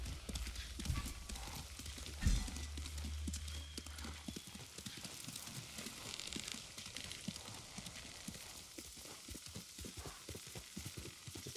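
Horse hooves clip-clopping steadily while riding in the video game Ghost of Tsushima, a fast, continuous rhythmic trot with a brief neigh and a low thump near the start, moderately loud over faint background ambience.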